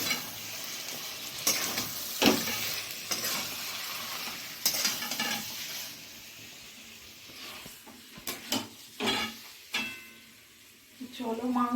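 Large chunks of meat are sautéed and stirred in a pan in a home kitchen, with a soft bed of frying sizzle broken by irregular scraping and clattering stirs, and a voice talking now and then.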